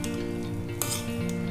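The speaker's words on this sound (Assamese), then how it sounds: "মই বিলাহী দিলোঁ, তাৰপিছত বিলাহীখিনি অকণমান ভজা পিছত চব্জি আৰু খিচিৰিখিনি দি এতিয়া ভাজি আছোঁ।" Khichdi with tomato and vegetables frying in a wok, a continuous close sizzle with a brief utensil scrape and clink partway through, no voices.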